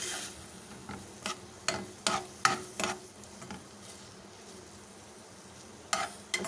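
A spoon scrapes and knocks in a bowl as chicken patty filling with red chili sauce is mixed, giving a run of soft irregular strokes before a quiet pause and one more near the end; no speech.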